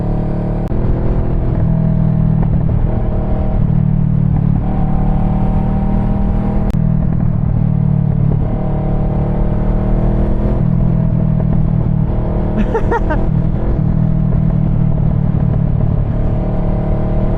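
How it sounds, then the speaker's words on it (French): Motorcycle engine revving at close range with a steady loud rumble that rises and falls, and a few sharp exhaust pops and crackles breaking through near the end. "je m'amuse pas du tout avec les petits pétous du pot"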